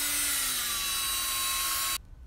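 A drill fitted with a sponge polishing attachment whirs steadily on a guitar body, a Fender Jazz bass, with a slowly falling motor whine that cuts off abruptly near the end.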